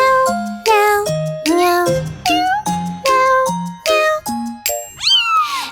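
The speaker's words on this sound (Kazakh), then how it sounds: "Мияулады, іздеді," A cat meowing in a children's song, a rapid string of short, clear, tonal meows, one after another, ending on a longer rising call, with faint jingling between.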